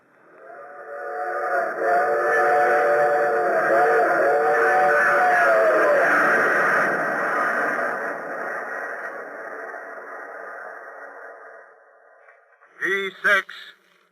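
A train sound effect from an old radio spy drama: a steady rumbling run of a passenger train with a whistle tone early on, fading gradually, then a short burst of sharp sounds near the end.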